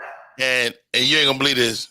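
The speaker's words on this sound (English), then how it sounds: "that dog barking in the background" A dog barks and yips in the background of a live comedy set, with short loud bursts, some whimper-like, while someone talks over them.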